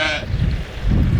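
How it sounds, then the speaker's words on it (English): A sheep on a farm gives a single short bleat at the start, followed by low rumbling wind noise and a faint voice. "Sheep are happy back here"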